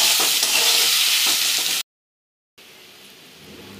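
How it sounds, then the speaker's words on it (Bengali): Potatoes and bitter gourd with turmeric and salt fry in a wok, making a loud, dense sizzle and crackle. It cuts to silence, then returns as a quieter, softer frying hiss. "এখানে আমার আলু আর উচ্ছে খুব ভালো করে ভাজা হয়ে গেছে"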